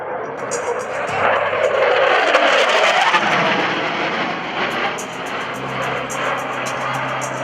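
A Grumman EA-6B Prowler jet at an airshow roars loudly as it passes fast overhead, a broad rushing thunder that swells and then settles into a sustained engine drone.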